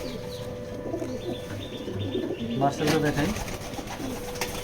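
Foreign-line cock pigeons, including a tiger grizzle, coo in low repeated bursts close by, mixed with light chirps and someone speaking over them.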